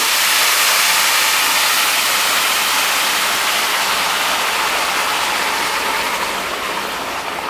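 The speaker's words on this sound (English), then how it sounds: "Then we're going to pour in the broth." Broth is poured into a hot pan while cooking rice with chicken, making a loud, continuous broad hiss and splash that stays steady throughout and eases off slightly near the end.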